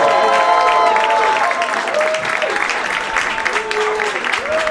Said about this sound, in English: I assume you're clapping for me because I'm a healthcare hero.